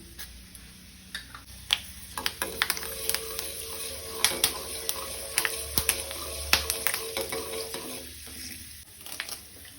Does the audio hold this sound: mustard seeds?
yes